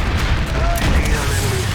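Booming gunfire in a video game, a dense rumbling blast that rolls on steadily through the whole moment, loud and close with no clear separate shots.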